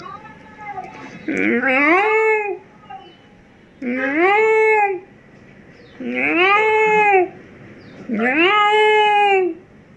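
A voice imitates an angry tomcat's yowl, four drawn-out, rising-and-falling wails separated by short pauses, loud and close.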